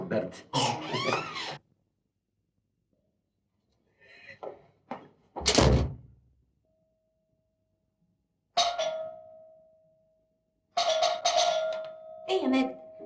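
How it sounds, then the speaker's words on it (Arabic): An apartment doorbell rings in a dramatic film scene, a sustained electric buzzing tone heard twice, the second longer, among sparse talk and a sharp door-like thud. "مش سامعه الباب"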